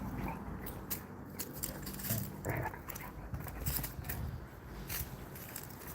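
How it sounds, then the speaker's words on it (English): A young dog gives small, soft barks and chirpy whimpers amid playful movement, quiet and close, in short scattered bursts over a low background hum. "makes all these like little barks, little chirps"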